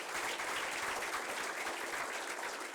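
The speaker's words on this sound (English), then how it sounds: "I would request all of you to give a clap." Audience applause at an award ceremony, a dense even wash of many hands clapping at moderate distance, continuous throughout with no talking.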